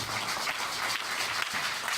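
A church congregation applauds and acclaims the Lord in a steady, dense wash of clapping that holds for the whole moment, with a low hum of voices mixed beneath it.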